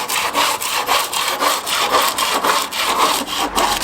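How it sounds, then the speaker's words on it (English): Steady back-and-forth wire sawing through a composite foam sandwich panel joint, close and loud, with rhythmic raspy strokes repeating about every third of a second through the soft material. "and sawing through the joint"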